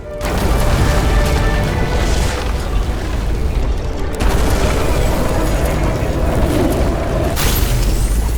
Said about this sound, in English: Someone flooded the transformer and it caught fire. The cable acted like a fuse. That's what caused the explosion.